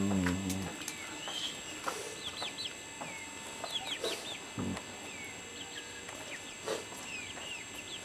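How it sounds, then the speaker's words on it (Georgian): Chickens and small chicks on a village farmstead in Kvemo Kedi give a steady stream of short clucks and high chirps, with no talk and only moderate loudness throughout. "ეს ბევრი ქათმები ყოლია"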